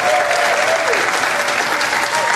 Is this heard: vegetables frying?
no